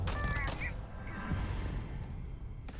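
Bursts of sci-fi weapon gunfire in the space game Starfield, a volley of shots crowding the opening second before thinning into a steady combat rumble, with a sharp blast near the end.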